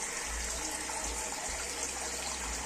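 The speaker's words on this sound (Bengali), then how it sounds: "এখান থেকে একটা জল পড়ছে" Water pouring steadily into a home aquarium tank, a continuous close splashing trickle with no voices.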